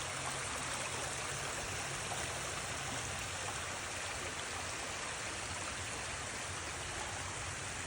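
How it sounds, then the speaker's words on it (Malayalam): Mountain stream flowing beside a small church near a waterfall at the foot of a hill, a steady close rushing of water that holds unchanged throughout, with no voices. "അരുവിയുണ്ട്, വെള്ളച്ചാട്ടം ഉണ്ട്, നോക്കിക്കഴിഞ്ഞാൽ കാണാൻ പറ്റും"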